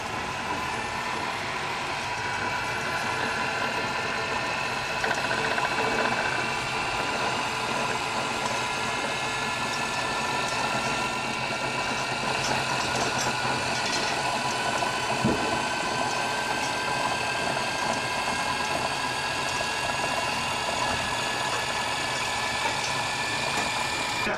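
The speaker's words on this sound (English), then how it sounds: "And it gets rewound on this machine." A 1997 film-editing machine rewinding reels, a continuous steady mechanical whir and hum with a faint high whine, unchanging at a moderate level for the whole stretch.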